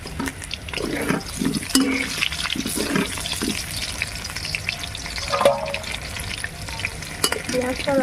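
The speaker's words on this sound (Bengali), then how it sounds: "পেঁয়াজটা লাল করে ভাজা হয়ে গেছে" Onion fries in a pan, a dense, loud sizzle with repeated scraping stirs and clattering utensil knocks throughout.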